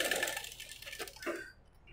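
Sewing machine stitching a blouse, a short stretch of quick mechanical needle chatter that stops near the end, with no talk.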